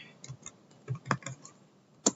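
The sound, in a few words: typing a command on a computer keyboard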